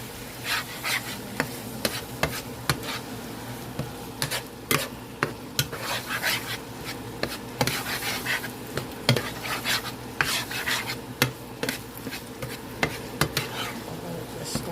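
A spoon works through a sloppy joe mixture with garlic powder and black pepper in a pan, making repeated close scraping and clinking stirs over a soft sizzle, with no talking.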